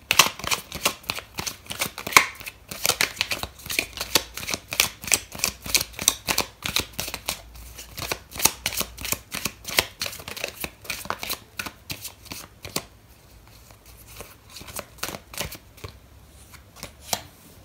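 Tarot cards shuffled by hand in a long run of rapid crisp riffles and slaps, steady then thinning toward the end, close and alone without talk.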